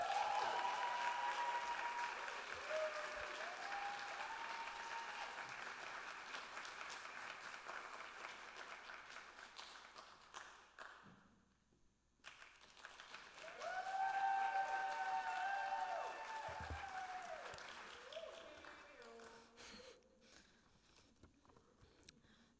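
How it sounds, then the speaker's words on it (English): Applause from an audience at a literary reading, fairly close and steady, briefly dropping away midway before a second burst of clapping that gradually fades. "please clap now for Michelle Hart"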